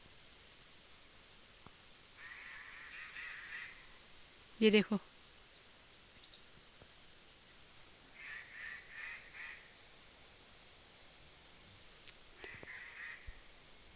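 Small birds perched in a tree give sharp alarm calls at a snake in a rural field, several short bursts of chirping spread across the clip, fairly faint, with someone speaking briefly and a sharp handling knock partway through.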